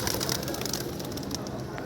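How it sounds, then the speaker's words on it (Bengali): Pigeons at a sky-pigeon loft after release, cooing softly amid a busy, noisy background, close by and brief. "পানি দিছি, কবুতরগুলো গোসল করতেছে"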